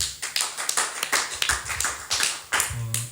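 A church congregation claps at a Sunday service, a short burst of uneven, moderately close applause with irregular hand claps over about three seconds.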